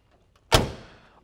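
A car door on a 1988 Chevrolet Monte Carlo SS swings shut in one close, solid thud that rings out and fades over the next second against a quiet background.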